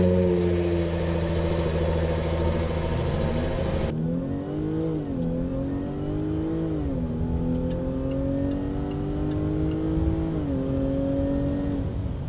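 A Jaguar F-Pace SUV engine hums steadily, then revs rise and fall through several gear changes as the vehicle accelerates, heard from inside the cabin without talking.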